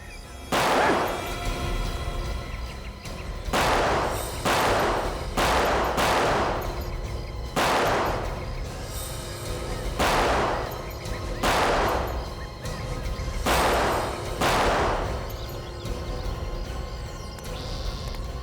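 Gunfire in a TV crime drama: a series of loud, booming shots spaced a second or two apart across the whole stretch, over a constant dramatic background score with no speech.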